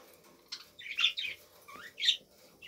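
Several short high chirps and tweets from farm birds, close by but fairly quiet, arrive in small bursts against a low background hum with no speech.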